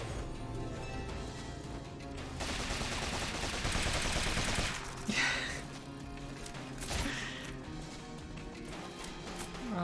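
Rapid gunfire from a gun spell cast in Rogue Legacy 2, dense bursts of shots over game music, loudest around the middle and continuing in a steady barrage.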